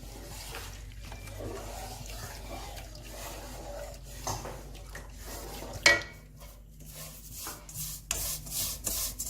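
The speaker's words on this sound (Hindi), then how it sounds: "सेवइयों को हल्की आंच पे रोस्ट कर रही हूँ" Vermicelli roasting on low heat is stirred in a pan, producing soft dry rubbing and scraping strokes, fairly quiet, with a sharper clack midway and more active scraping toward the end.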